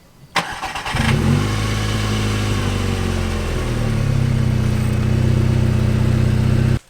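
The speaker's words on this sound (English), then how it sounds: "what I want to hear is this car, the exhaust is way too restricting." A Volkswagen MKV GTI with a restrictive exhaust starts up and settles into a loud, steady, throaty idle that rises slightly partway through, heard close and alone after a brief word.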